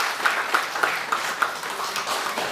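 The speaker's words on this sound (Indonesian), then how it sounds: "beri tepuk tangan sekali lagi buat Chris The Dragon John" Audience applause at a press conference announcing boxer Chris John's retirement: steady, dense clapping that holds at a moderate level through the whole stretch, with a few sharper accents.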